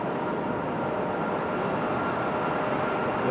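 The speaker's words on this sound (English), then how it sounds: "Copa Airlines making its way out onto the runway," A Copa Airlines Boeing 737 MAX 9 airliner taxis onto the runway at Raleigh-Durham International Airport, its steady broadband jet engine roar loud and constant throughout with no talk.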